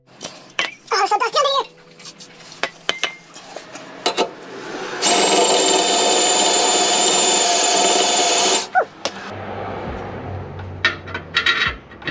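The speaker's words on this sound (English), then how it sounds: "I'm just gonna finish drilling up these holes and then putting it back on" A power drill bores holes in the catalytic converter shield of a first-generation Toyota Sequoia or Tundra, whining loudly and steadily for several seconds between scattered clanks and handling noises.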